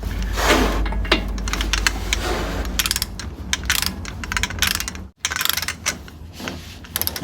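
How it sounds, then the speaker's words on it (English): A torque wrench ratchets on a Toyota Highlander CV axle nut, tightened to 217 foot-pounds, giving dense, rapid clicking bursts up close with a brief pause partway through. "that's going to keep this from turning while we torque that nut"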